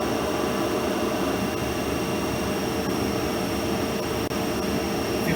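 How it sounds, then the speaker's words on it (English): The prime mover driving a DC shunt generator runs at 1500 rpm, producing a continuous, even mechanical hum and hiss with a low rumble, loud and unbroken from start to finish, with no voices present. "Now I am adjusting this external field winding rheostat of prime mover to get 1500 rpm."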